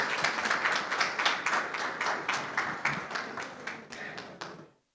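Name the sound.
applause for the book release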